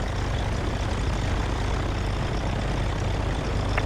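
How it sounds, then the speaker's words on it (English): Small Bonanza airplane's engine drone during a touch and go at Spartanburg airfield, a steady, loud, continuous propeller roar heard from inside the cabin with no pauses. "he did a touch and go, so they're basically just practicing"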